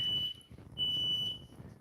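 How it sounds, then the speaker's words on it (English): A household smoke alarm, set off by burning food, sounds two sharp piercing beeps in succession, moderately loud over a low background hum. "the smoke alarm's going off"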